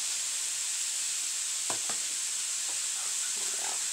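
Eggs fry in a pan with a soft, steady sizzle and a few light taps or scrapes partway through, fairly quiet and without talk.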